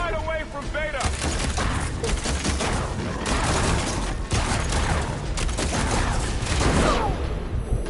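Sustained rapid gunfire in a video game, loud and dense, with bursts blending into near-continuous shooting and voices talking underneath.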